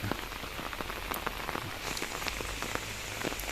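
Heavy rain pours steadily behind a house during a late-May downpour in Kerala, a dense, continuous hiss with scattered sharper drops pattering on surfaces, close and even throughout with no voices.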